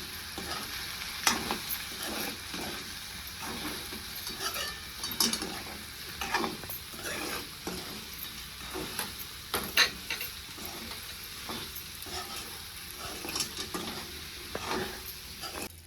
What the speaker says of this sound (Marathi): आता सगळं भेंडी आणि बटाटा आपल्याला मिक्स करून घ्यायचं